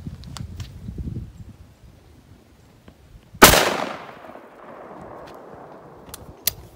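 A 10 gauge shotgun with a 23-inch barrel fires a 2.5-ounce turkey load of 7.5 shot at bottles, one loud, sharp blast with a decaying echo, amid quiet outdoor rustling and a faint later click.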